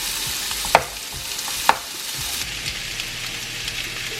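Onions stirred as they fry in a pan give a steady soft sizzle, with two sharp scrapes of the spoon against the pan near the start, close and alone.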